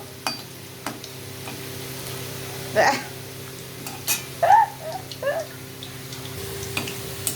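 Potatoes frying in a pan, a soft steady sizzle punctuated by several clinks and scrapes of stirring with a utensil, while faint voices sound in the background.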